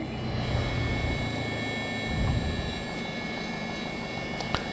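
A Mooney M20J piston engine idles at about 750 rpm after a hot start, a steady close droning hum with an even low throb and faint tonal whine, running alone without talk.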